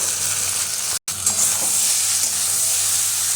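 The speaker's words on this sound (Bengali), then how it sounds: "এবারে আলু, পেঁয়াজ, টমেটো খুব ভালো করে ভেজে নেব" Potato, onion, tomato and okra fry together in a pan, giving a loud, steady close-up sizzle with stirring noises, broken only by a short cut of silence just after the first second.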